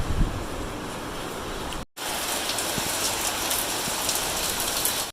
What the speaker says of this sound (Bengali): দেখি, শুরু হয়ে গেল বৃষ্টি